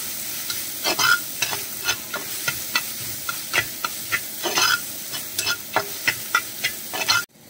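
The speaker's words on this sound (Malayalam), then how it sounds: "ഇനി അതിലേക്ക് ഒരു സവാള ചെറുതായി കൊത്തി അരിഞ്ഞത് ചേർത്ത് കൊടുക്കാം. നന്നായിട്ടൊന്ന് വഴറ്റിയെടുക്കാം." Chopped onion being sautéed and stirred in a pan, with a steady frying sizzle broken by repeated clicks and scrapes of the stirring utensil at a fairly even rhythm, close and moderately loud, with no talking.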